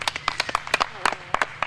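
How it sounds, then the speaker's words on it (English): A few people clap sparsely and unevenly after a nitrate film burn in an archive screening room, with short bursts of separate hand claps and no steady roar. "Let's hear a round of applause for that."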